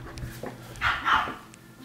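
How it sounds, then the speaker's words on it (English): A dog gives a couple of short barks and yips indoors, fairly close, with a whimpering quality between them. "her dog is barking"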